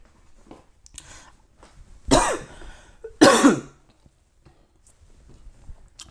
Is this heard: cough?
yes